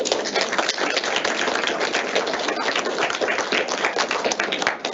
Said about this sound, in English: So please, general round of applause for everybody.